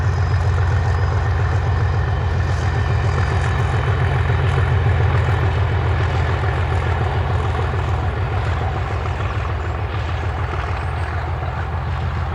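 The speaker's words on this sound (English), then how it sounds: "Big old diesel motor pulling that one, pushing it rather." An old DRS diesel locomotive pushes a train between Carlisle and Wigton, a deep steady engine drone with a throbbing low rumble that stays loud and constant from start to finish.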